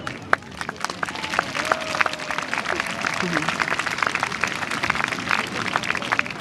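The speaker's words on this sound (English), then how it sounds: "can we please have a big cheer for our hard-working crew?" A crowd cheers and applauds, dense clapping rolling steadily with scattered shouts mixed in, loud and sustained throughout.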